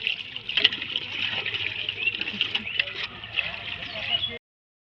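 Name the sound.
water filling a bucket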